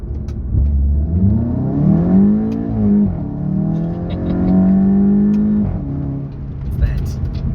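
A Volkswagen Golf 7.5 GTI revs through its exhaust with a rising and falling engine tone, swelling twice before settling back to idle, loud and close.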